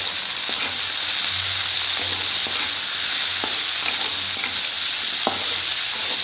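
Okra and potatoes frying with Kashmiri red chili give off a steady, loud sizzle, and a spoon scrapes the pan now and then as the vegetables are stirred.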